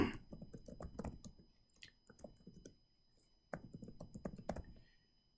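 Quiet, close keystrokes on a computer keyboard come in two bursts of rapid clicking separated by a brief pause, with faint scattered taps between.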